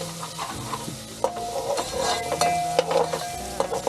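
Boiled chicken pieces fry and sizzle steadily in a little oil with garlic-ginger paste, with frequent stirring scrapes and clinks of a utensil against the pan, close up with no voices.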